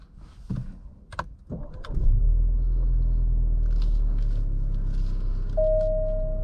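A 2023 Alfa Romeo Giulia Veloce with a 2-liter turbocharged four-cylinder starts up after a few short clunks and settles into a steady, loud, close engine rumble, with a faint electronic tone near the end.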